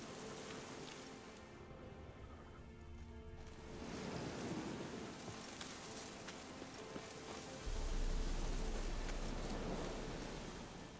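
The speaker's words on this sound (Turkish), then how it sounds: "Yağmurda çiseliyor." Steady rain falls with rolling thunder in The Witcher 3: Wild Hunt; a dense hiss of rainfall builds in intensity, with low rumbling swells underneath, and no voice is heard.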